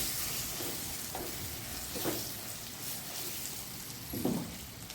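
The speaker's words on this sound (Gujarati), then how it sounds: "અને આ બધા આપણે મસાલા સાતળી લઈશું થોડીક વાર માટે" Spices including Kashmiri chili powder sizzle steadily in a hot pan for stuffed yogurt chilies, with a few louder stirring scrapes near the end and no talking.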